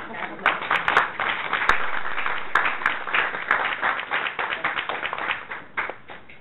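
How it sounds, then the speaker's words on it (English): Audience at a community forum on Detroit and Southfield applauding: dense, sustained clapping from a crowd that swells and then slowly tapers, with a few sharper claps standing out. "Let's give another round of applause."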